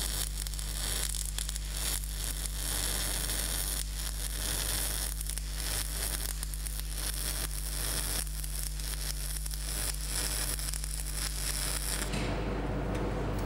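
MAG welding torch laying a first bead into an inside corner joint, the torch held at 45 degrees: a steady, loud crackling sizzle with a constant low hum that carries on unbroken, then cuts off near the end, leaving only a low hum.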